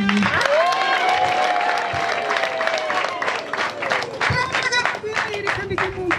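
An audience breaks into steady clapping that runs throughout, with a voice carrying over it and a few louder claps standing out near the end.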